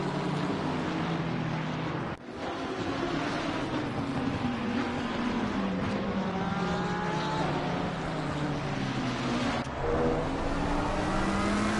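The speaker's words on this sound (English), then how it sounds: "We've got a train of cars almost all the way back to Stu Rogers back in 14th" Several race cars, including a McLaren, run close together in a tight pack on the Valencia circuit in a sim racing game, their engine tones layered and droning steadily, with a brief dip partway through.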